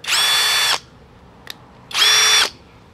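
An Akaido cordless mini circular saw spins up twice with no load, each burst a loud, steady high whine lasting under a second, separated by a pause with a single small click, close to the listener and without speech.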